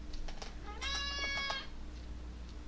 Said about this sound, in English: That's my cat, Clyde